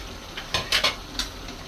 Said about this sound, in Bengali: ওগুলো সিদ্ধ করা বাঁধাকপি এবার ঢেলে দেবো, সঙ্গে মাছগুলান দেবো